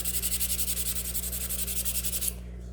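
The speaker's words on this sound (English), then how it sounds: "so give that a sand." Sandpaper rubbed back and forth across a laser-cut wooden tray piece, a close rhythmic scratchy swish of about twenty quick strokes, stopping near the end over a faint steady hum.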